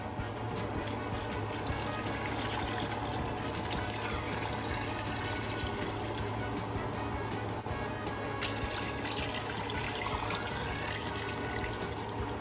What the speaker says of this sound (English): I'm gonna add more water first.